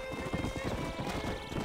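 Rapid hoofbeats clatter steadily throughout in the video game Red Dead Redemption: Undead Nightmare, with a horse's whinny blended into the busy, continuous galloping sound.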